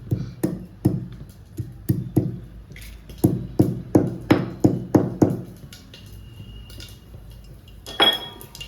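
Spices for palav pounded in a mortar, a run of about a dozen sharp, close knocks in an uneven rhythm with brief pauses, ending in a softer clatter.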